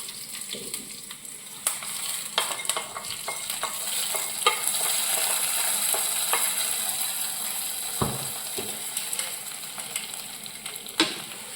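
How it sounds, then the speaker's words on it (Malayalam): Mustard seeds crackle and pop in hot oil with curry leaves, giving a close, irregular series of sharp snaps over a continuous sizzle. "കടുക് വറുക്കും."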